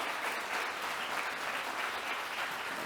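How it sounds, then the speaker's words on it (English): Applause at a tech conference warmup session, dense and steady hand-clapping from a crowd lasting the whole stretch, moderately loud with no break. "maybe an applause for George first"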